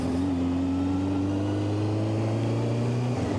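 A 1990 Honda CBR600F motorcycle engine sits at tick over, running a little unevenly with a steady low hum throughout, close by and fairly loud with no talking.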